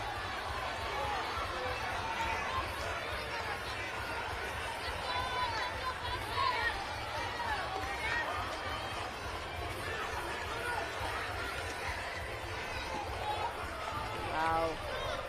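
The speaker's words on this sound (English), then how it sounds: "if you can hear the crowd behind me, they are getting louder and louder, cheering on their respective islands" Spectators cheer from the stands at a Bahamas Games swimming race. A dense, continuous crowd roar swells at moments while a commentator talks over it.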